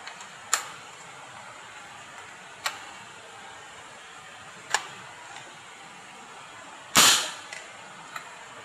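Air gun built for 8mm steel balls firing empty with no ball loaded: four sharp, loud cracks spaced a couple of seconds apart, the fourth the biggest with a brief hiss trailing off, then a faint click.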